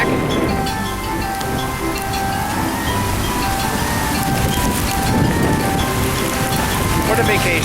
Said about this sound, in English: Well, the hail is back.